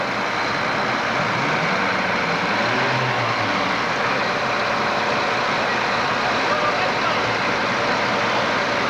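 A white tractor drives in a parade with a steady low engine rumble, blended into a dense, constant wash of outdoor crowd and traffic noise with no clear breaks.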